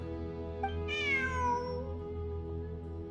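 A cat in a video game gives a single drawn-out meow that rises and then falls, clear and up front over a steady low background hum of game ambience, with no speech.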